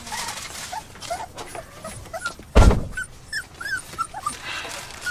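Young pit bull puppies whimper and squeal in high, thin repeated cries close by, with one brief thump midway and little talk.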